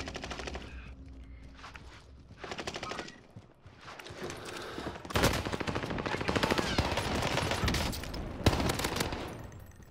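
An M1928 submachine gun in a video game firing long automatic bursts, loud and near, with a quieter opening that swells into dense sustained fire in the second half.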